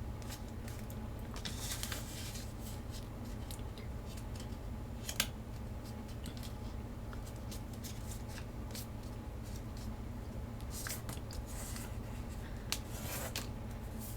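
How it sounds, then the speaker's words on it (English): Paper for an origami bird is folded toward a center crease. Quiet, close crinkles and soft creasing rustles come in scattered bursts over a low steady hum, with no voices. "open up the unit and fold this side to the center crease over here"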